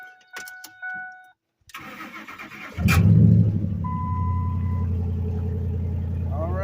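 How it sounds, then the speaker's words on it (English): A Ford F-150 pickup with the 5.4 V8 Triton engine cranks briefly after faint clicks, catches with a loud burst and settles into a steady, rumbling idle close by. "All right, so we're going to crank the vehicle up."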